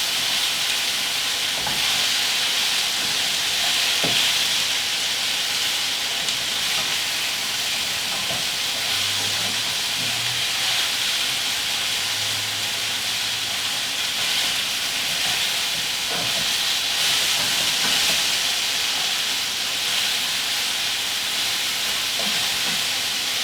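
Food browning in a hot pan, a steady broad sizzle and hiss running continuously and fairly loud throughout, with no voices over it.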